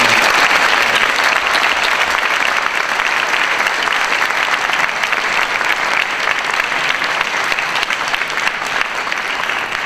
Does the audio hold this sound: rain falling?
no